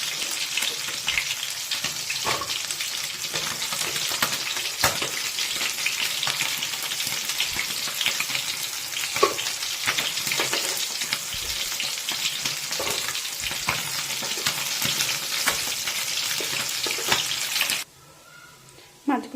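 Golden fish fry in a pan with a dense, close crackling sizzle and occasional sharper pops, running steadily until it drops away abruptly near the end.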